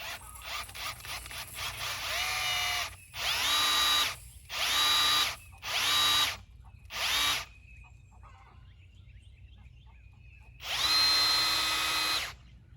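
A cordless power drill spins twisted wire ends together, its motor whining up in five or six bursts of a second or so each, starting and stopping with short silent gaps between.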